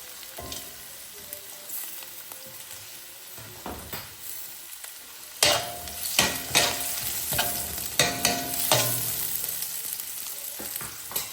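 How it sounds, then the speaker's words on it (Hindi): Chopped garlic and carrot fry and sizzle in hot oil in a pan, with stirring clatter and scraping growing louder partway through; no one speaks. "अब इसी तेल में हम लोग डालेंगे चॉप किया हुआ गार्लिक, साथ में इसके हम लोग डालेंगे कटी हुई गाजर।"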